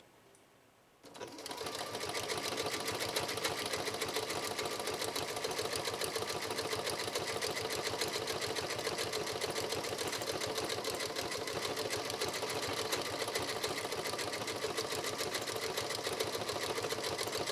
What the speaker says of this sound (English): this is pattern 175 under mode 2 for this Memory Craft machine